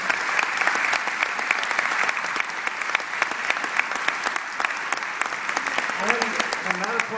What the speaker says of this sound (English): Let's give them a round of applause for some questions.